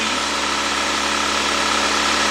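A Nissan car engine, freshly fitted with a new head gasket, idles steadily and close by, giving an even, loud hum with fine vibration and no speech.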